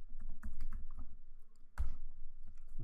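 Close, quiet typing on a computer keyboard in short bursts of key clicks, with a slightly louder tap near the end and no voices.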